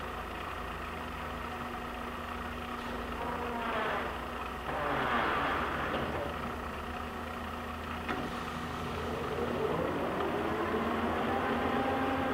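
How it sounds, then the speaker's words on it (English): LeBlond 40 x 252 hollow spindle engine lathe, model 4025, with its spindle running, a steady low motor hum and whine that changes pitch slightly partway through, heard close up with no talk. "We're running the spindle. We're going to change speed."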